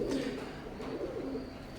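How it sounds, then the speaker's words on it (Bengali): Oman bloodline Teddy pigeons, a pair of young birds, coo softly and continuously at low volume, with a steady murmuring hum of cooing throughout. "ভিউয়ার্স স্ক্রিনে এখন যে কবুতর জোড়া দেখতে পাচ্তেছেন এটা ওমান ব্লাড লাইনের এক জোড়া বেবি"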